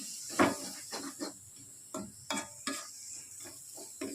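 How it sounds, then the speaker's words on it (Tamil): Curry leaves and ginger garlic paste are stirred as they fry in a pan, with scattered spoon scrapes and soft clinks over a faint low sizzle, quiet and close. "போட்டு கொஞ்சம் நல்லா கிளறி கொஞ்சம் செவந்து வரட்டும்."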